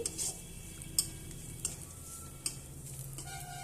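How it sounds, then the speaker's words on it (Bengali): Garlic and dried red chillies frying in hot oil in a pan give a soft, steady sizzle, while a spoon stirs and scrapes with several distinct clinks at irregular intervals. No one speaks. "একটু লাল করে ভেজে নেব।"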